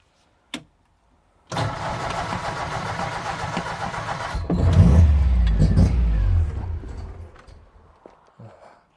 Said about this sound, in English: Okay, so the car's started now.